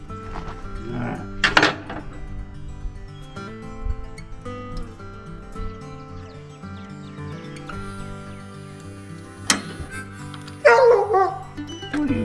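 A dog barks in a few short, sharp bursts near the start and again toward the end, set against a steady background hum during hands-on mechanical work with wrenches.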